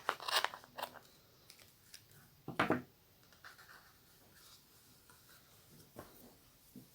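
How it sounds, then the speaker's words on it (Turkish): Scissors make a few crisp snips through Nako Vizon yarn, short sharp cuts near at hand separated by quiet pauses, with light handling rustles in between. "Hemen şuradan orta kısımdan kesiyorum."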